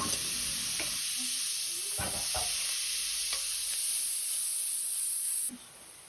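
Chopped onions sizzling and hissing steadily in a frying pan, a continuous close frying sound with a few soft stirring clicks, as a simple home lunch of onions and minced meat begins cooking.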